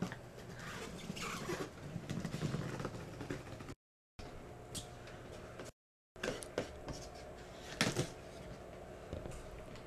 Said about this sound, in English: The knife going in.